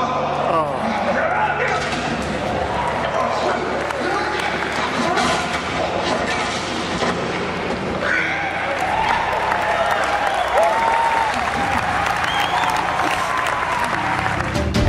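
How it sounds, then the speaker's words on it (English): A large convention crowd at E3 2012 cheers and applauds loudly and continuously, dense clapping and whoops filling the space with scattered shouts throughout. "Just look at this crowd reaction from E3 2012."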